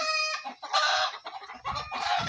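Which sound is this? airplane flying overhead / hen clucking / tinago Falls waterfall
hen clucking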